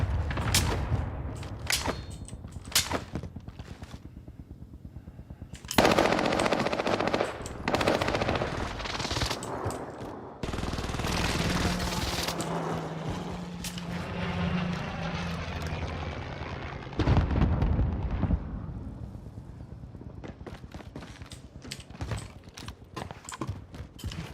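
Rapid bursts of gunfire crackle in sharp repeated strings, some dense and machine-gun-like, alternating with quieter stretches and other mechanical noise throughout.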